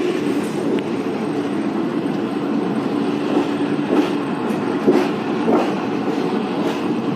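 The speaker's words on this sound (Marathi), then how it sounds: "आपली गाडी एकदम मस्त भरधाव वेगाने नांदेडला निघालेली आहे" Indian Railways train running at speed, heard from inside a 3-tier AC coach on the way to Nanded: a loud, continuous rumble with periodic clickety-clack wheel beats over rail joints.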